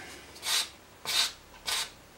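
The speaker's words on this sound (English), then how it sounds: "finish off with a little bit of sandpaper" Fine sandpaper rubs against reed cane in four short, close strokes spaced about half a second apart, with quiet pauses between them.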